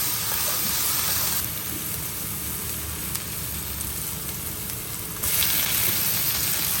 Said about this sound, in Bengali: আদা রসুনটা দিয়ে দিচ্ছি।